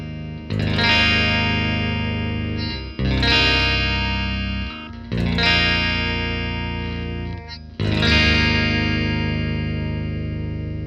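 Electric guitar played through the clean amp of the Neural DSP Rabea plugin, four loud, bright, chiming strummed chords each ringing out for a couple of seconds, with shimmering effects and no voice.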